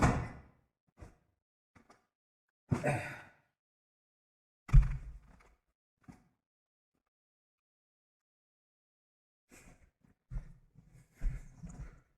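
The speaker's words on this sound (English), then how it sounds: "I'm going to try and close the door." A door in an SCP: Roleplay game, heard as a few separate thuds and sliding knocks spread across a quiet stretch, each one short and fairly close.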